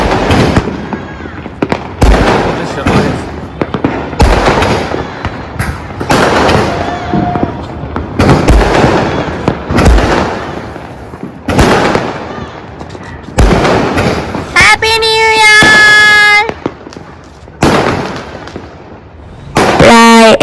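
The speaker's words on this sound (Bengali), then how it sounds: "এক ঘন্টা মতো এই বাজিগুলি ফুটেছে" New Year's Eve midnight fireworks and firecrackers burst loudly and repeatedly, a steady barrage of sharp bangs with one rising whistle near the end.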